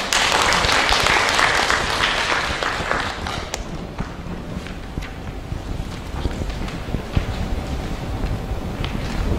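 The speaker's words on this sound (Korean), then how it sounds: "박수 부탁드립니다" An audience claps at a tourism forum in a city hall conference room in Pohang, loud dense applause at the start that fades to a softer, steady patter.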